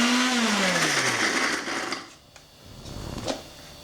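A kitchen mixer grinder whirring as it grinds crisp fried onion and garlic into a fine paste, a loud steady motor whine that winds down and stops, followed by faint clatter.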